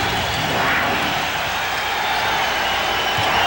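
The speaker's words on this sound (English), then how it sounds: "They came back with cheers." A basketball arena crowd roars for the Seattle Sonics during deciding Game 5 of the 1993 NBA playoffs against the Utah Jazz, a steady, loud wash of cheering that fills the space.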